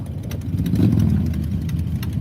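Motorcycle engines idle at Arizona Bike Week, a steady low rumbling hum close by with no voices over it.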